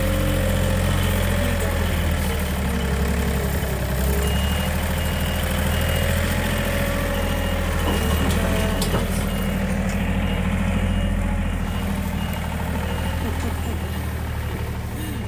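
A heavy diesel bulldozer engine rumbles steadily at close range during heavy winter snowfall in Japan, with faint repeated reversing beeps mixed in and a voice talking over the machinery.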